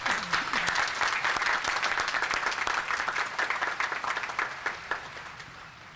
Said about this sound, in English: Please acknowledge once more our honorary degree recipient with a round of applause.